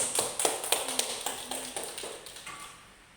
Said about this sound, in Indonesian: Ya, beri aplaus dulu untuk semuanya.